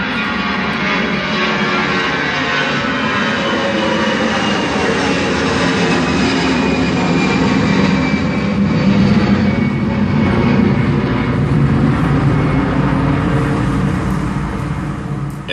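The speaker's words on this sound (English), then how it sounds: "an airplane as it passes by, from taking off to flying directly overhead" A loud, continuous jet engine roar, broadband and steady, like an airplane taking off and passing overhead, holding strong throughout.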